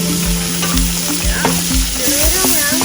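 Garlic and onions sizzle in a pan for a low-carb ground turkey dinner, a steady loud frying hiss with a few scrapes and clatters from stirring, no talk.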